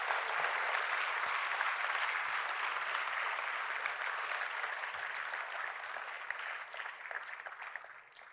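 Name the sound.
audience applause for volunteers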